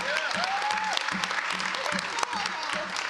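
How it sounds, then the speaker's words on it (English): Audience applause fills an evening showcase event, steady dense clapping throughout, with a host's voice talking over it. "Keep that round of applause going until they get up here on this stage"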